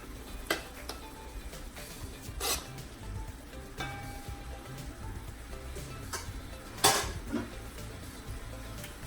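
Seasoning and oil being stirred into Nigerian fried rice in a pot, with scattered metallic clinks and scrapes of the spoon against the pot over a quiet low sizzle, close by and without talking.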